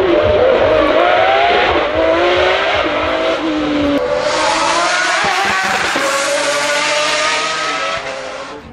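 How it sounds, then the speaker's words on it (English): Pagani Zonda R with a naturally aspirated V12 engine, loud and close, with a high wailing note that rises and falls as it revs and pulls away. "They're powered by a naturally aspirated V12 that makes the most intoxicating, incredible sound you will ever hear out of a car."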